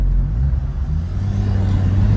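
A Smart Brabus car engine pulls under acceleration with a steady, loud low rumble and hum that holds through the whole moment, no voices over it.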